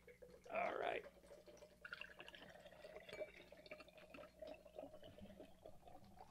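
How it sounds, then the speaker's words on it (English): St. Ambroise nitro cream ale is hard-poured into a glass from a can, starting with a loud burst of splashing liquid, then settling into a softer fizzing, trickling pour under faint background sound. "And then hard pour it."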